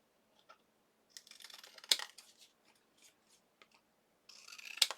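Scissors snip excess paper off a slightly tacky craft tag: a few quiet, close cuts in short bursts, with a crisp louder snip near the end and near silence between.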